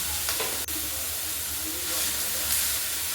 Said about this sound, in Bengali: ভালো করে নাড়াচাড়া করে পটলগুলো ভেজে নেব